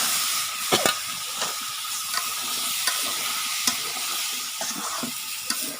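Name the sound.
vegetables added to fried spice paste, sizzling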